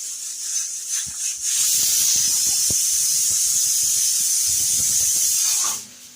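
A kitchen pressure cooker lets off its whistle, a loud sustained hissing steam jet that rises, holds steadily for several seconds and then cuts off, with faint clinks and household sounds underneath.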